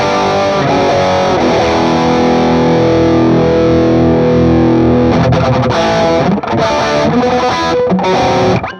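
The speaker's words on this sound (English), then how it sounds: "It seems to me like the distortion in this one sounds a little bit like synthetic-y" Distorted electric guitar played through an AmpliTube Mesa Boogie Mark IV amp simulation, loud sustained crunchy chords that ring out, then choppier strummed bursts with short gaps near the end.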